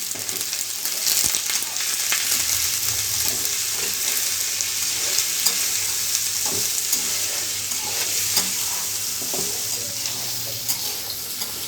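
Ivy gourd (tindora) fry sizzles steadily in a pan while a spoon stirs in turmeric, with soft scraping strokes over a continuous close hiss and no talking.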